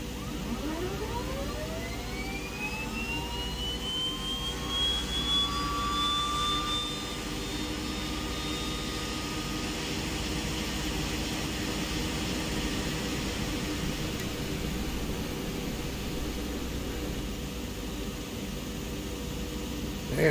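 Right engine of a twin-prop aircraft spools up during start in Microsoft Flight Simulator 2020, a steady turbine whine rising in pitch over several seconds and then holding, with a constant airy roar beneath and no talk.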